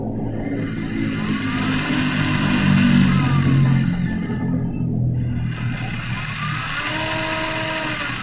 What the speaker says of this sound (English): the motor is running clockwise, and slowly it stops and goes anti-clockwise